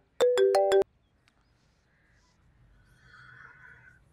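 A mobile phone rings indoors with one brief, loud melodic burst of electronic tones that cuts off quickly, followed by near silence and faint background sounds.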